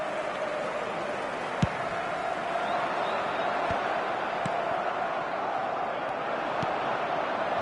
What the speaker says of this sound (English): the roof's just about stayed on, but the crowd level has gone up a notch or 10.